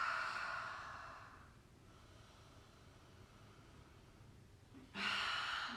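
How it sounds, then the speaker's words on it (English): Slow, deep breathing during a calm yoga session, a long airy exhale fading over the first seconds, a quiet pause, then a fresh breath at the end, close and soft with no talking. "Inhale deeply. Exhale. It's a few cleansing breaths here."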